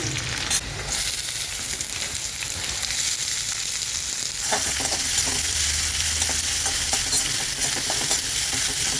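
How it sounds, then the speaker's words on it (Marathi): Garlic and onion fry in a pan for an okra stir-fry, giving a dense, continuous loud sizzle with occasional stirring scrapes, close and without voices. "लसूण थोडासा तांबूस कलरचा झाला की त्याच्यामध्ये आपण कांदा टाकायचा"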